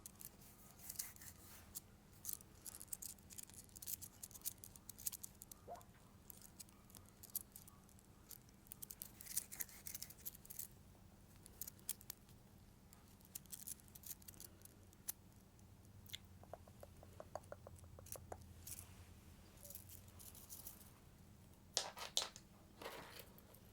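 Soft, rapid clicking and rattling of a small linked fidget chain toy continues close up and fairly quiet, with irregular bursts and no talking.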